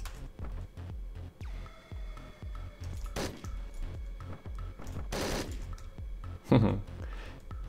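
Gunshots in the top-down action game Hotline Miami 2, a few sharp bursts standing out over a thumping, rhythmic music track, moderately loud.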